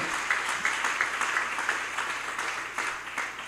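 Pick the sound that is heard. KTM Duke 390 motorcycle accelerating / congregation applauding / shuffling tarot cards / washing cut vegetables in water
congregation applauding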